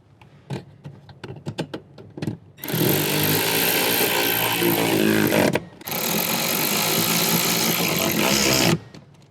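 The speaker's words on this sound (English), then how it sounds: "And then we're going to grab our 14mm socket and tighten these down" Power tool driving a 14mm socket to tighten amp bracket bolts in a Toyota 4Runner, with a few short clicks, then two long loud sustained whirring runs with a brief pause between.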